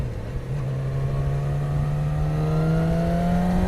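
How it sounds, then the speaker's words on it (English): A 2018 Yamaha R6 sport bike engine revs steadily upward, its pitch climbing smoothly over a few seconds, loud and close with no talking. "Man, this engine sounds so nice"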